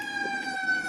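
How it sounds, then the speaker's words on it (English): A distant emergency siren wails in a steady tone, faint and continuous, with no talking over it. "I hear sirens."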